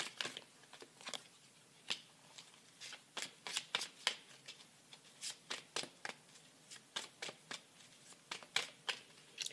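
Tarot cards being shuffled by hand in quiet surroundings, a close, dry run of crisp riffling slaps and flutters in short irregular bursts, with no voice over them.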